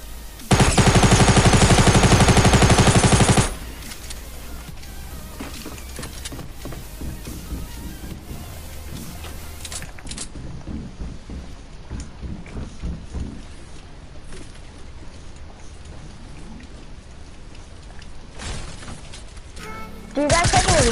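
A minigun in Fortnite unleashes a loud, dense burst of rapid fire for about three seconds, then scattered game sounds and players talking follow, before another short burst of fire at the end.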